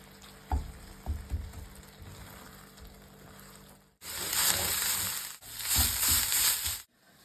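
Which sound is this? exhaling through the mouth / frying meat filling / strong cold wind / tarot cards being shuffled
frying meat filling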